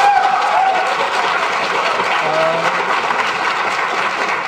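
Students applaud loudly at a lively academic debate, a dense sustained burst of clapping from a crowd that fades slightly toward the end, with a faint voice underneath.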